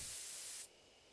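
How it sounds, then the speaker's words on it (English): In the video game Death Mark, a sprayer releases a sleeping drug in one steady, loud hiss that cuts off abruptly after about half a second, leaving faint background noise. "Take careful aim and spray the drug."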